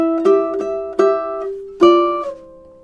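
Ukulele plucked through measure 9 of a song, four clear notes or chords ringing out one after another at a moderate pace and decaying, close and alone with no talking.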